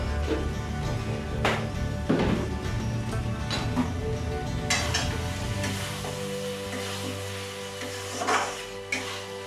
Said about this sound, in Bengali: সব মশলা টমেটো সব কিছু কষিয়ে নেবো যতক্ষণ না তেলটা ছাড়ছে